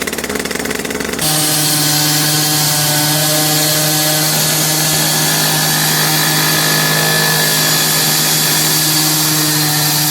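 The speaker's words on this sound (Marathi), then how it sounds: "हे होतं स्लॅब कटिंगचं मशीन. एकदम परफेक्ट कटिंग करत होता बघा." A slab cutting machine cuts a concrete slab in a window-making workshop. It starts with a brief clattering burst, then settles into a loud, steady whining drone that runs unbroken to the end, with no voices.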